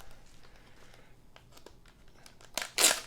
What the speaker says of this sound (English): And lots of bubble wrap.